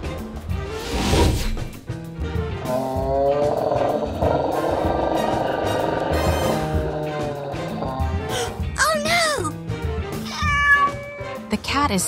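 A giant cartoon cat meows and yowls loudly during a battle with a dinosaur. Several drawn-out, rising and falling cries sit over a busy, dense soundtrack.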